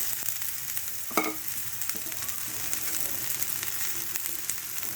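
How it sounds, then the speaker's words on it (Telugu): Cabbage goes into a pan of fried onions for a cabbage and potato curry, and a soft, steady sizzle of frying follows, with one brief stirring clatter early on and no voices. "ఉల్లిపాయలు వేగిపోయాయి, ఇప్పుడు క్యాబేజీ వేసేయండి."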